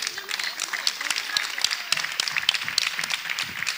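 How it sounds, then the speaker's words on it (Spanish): Audience applause at a farewell talk in Galicia, a dense patter of many hands with scattered sharp claps, moderately loud and continuous, with voices murmuring beneath. "Y ahora nosotras le podemos dar un aplauso al público"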